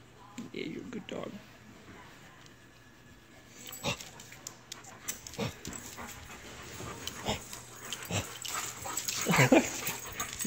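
A dog pants and whimpers close by, in soft uneven bursts with a few sharper yips, while a person talks over it in a home setting.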